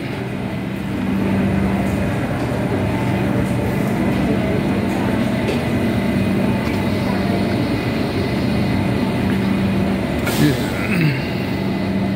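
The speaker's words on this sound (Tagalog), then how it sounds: "Sakay na tayo ng LRT." Onboard a light rail train in Adelaide, a loud, steady rumble and rolling hum of the carriage fill the whole stretch, with faint voices in the background.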